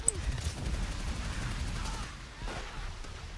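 Gunfire crackles in the video game World at War: scattered, fairly distant shots and bursts over a low rumbling battle background, all at a subdued level.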